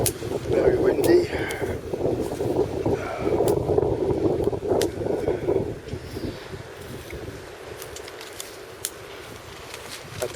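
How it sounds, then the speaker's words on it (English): Strong wind buffeting a camp shelter, heavy gusty roaring against the microphone that surges in bursts, then eases to a lighter steady blow, with sharp flaps and knocks scattered throughout. "Very windy."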